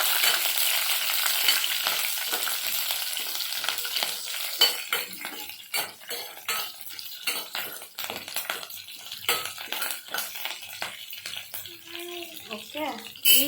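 Curry leaves and green chillies fry in hot oil in a pan with a bright, crackling sizzle, broken by stirring scrapes and utensil clinks. A person talks over the cooking.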